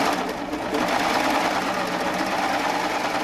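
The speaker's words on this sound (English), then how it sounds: "continue with my 3-thread wave decorative stitch on the other side" Baby Lock Triumph serger running continuously while sewing a 3-thread wave decorative stitch on pillow fabric, a steady close mechanical whir without pauses.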